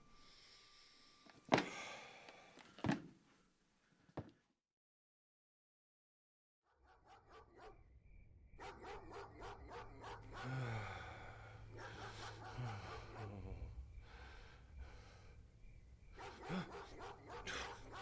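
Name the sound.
dog barking, audio drama sound effect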